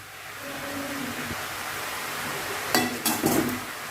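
Arai keerai greens stirred in a cooking pan, with a steady low sizzle throughout and a few sharp utensil clinks and scrapes against the pan near the end.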